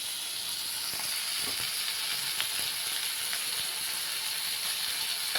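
Pomfret fish frying in a pan over a full gas flame, giving a steady, close sizzle with a few faint clicks and scrapes and no talking.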